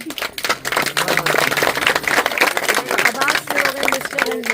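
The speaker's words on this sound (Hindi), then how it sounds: "ताली बजाओ, ताली बजाओ।" Guests clap at a Hindu wedding ceremony in a quick, ragged burst of applause that runs throughout, mixed with voices talking and calling out over it.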